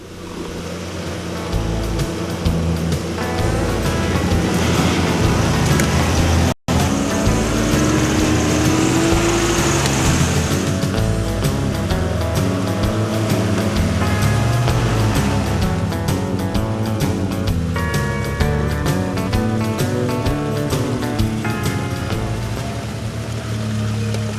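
4WD vehicles drive through mud in a warm-up run, their engines droning loudly and continuously with revving swells and splashy churning throughout.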